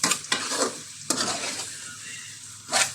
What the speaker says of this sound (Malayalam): എല്ലാം ഒന്ന് നന്നായിട്ട് മിക്സ് ചെയ്യുന്നു.